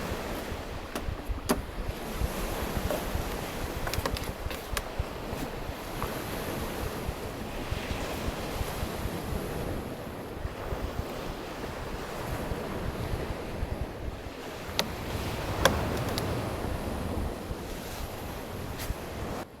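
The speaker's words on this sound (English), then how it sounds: "And a pretty mean wind." Strong, gusting wind buffets the microphone at a shoreline on Svalbard in freezing weather, with surf washing in beneath it, a continuous loud roar with occasional sharper gusts and no talk.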